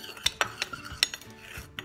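Metal spoon stirring sugar into a homemade Baby Alive doll food mixture, with a series of quick, light clinks and scrapes against the bowl, close up and alone.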